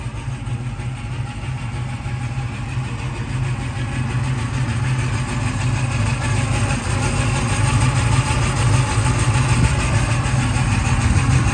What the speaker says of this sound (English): Hear that Howard's gear-driven cam.